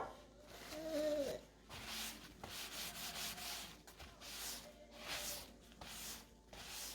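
Soft rubbing of wet paper off a photo transfer canvas, repeated light scrubbing strokes in short bursts, close and fairly quiet, with brief pauses between passes.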